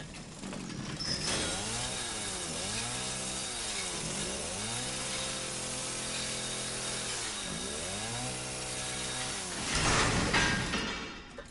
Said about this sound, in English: Finish off this chainsaw.